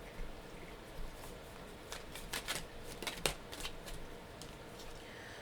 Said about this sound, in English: let's pull some meditation cards